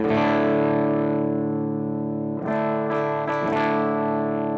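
Heavily distorted electric guitar in Amplitube 5 with bass turned to maximum, driving into clipping: a dense, sustained chord with a boomy low end, followed by several quick strums, loud and continuous with no voice.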